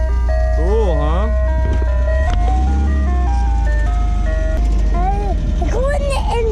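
An ice cream truck plays its melodic, electronic chime jingle while passing, heard over a constant loud engine and road rumble, with faint voices around.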